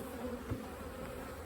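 Honey bees hum steadily around an open hive being checked for its spring honey crop, a continuous close buzz with no voices.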